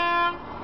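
A truck horn sounds in one short, loud, steady blast that cuts off abruptly, leaving faint background noise.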